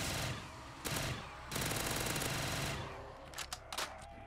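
Automatic gunfire from a zombies video game, with loud broadband bursts at about 0.8 s, a sustained stretch from 1.5 to 2.7 s, and several short rattling bursts near the end.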